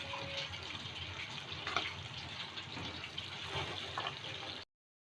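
Water is poured into a pot of potatoes frying in oil. It makes a continuous rushing splash and sizzle for several seconds, then stops abruptly.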